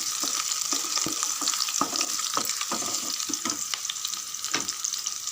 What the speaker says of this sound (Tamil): லைட்டாக ஒரு ரெண்டு செகண்ட் வதங்கினா போதும்